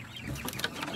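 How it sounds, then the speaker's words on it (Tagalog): Native chickens cluck at close range in a farmyard pen, a brief busy burst of clucks over light background noise. "Dito naman sa kabila guys, meron akong mga native chicken."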